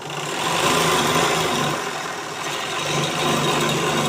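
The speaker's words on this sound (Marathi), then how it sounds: "असे शिलाई मारले की हे असे तयार होतात झेंडे" A sewing machine runs steadily and close, stitching cloth flags in a continuous whirring, mechanical drone that lasts the whole stretch with no pauses and no talking.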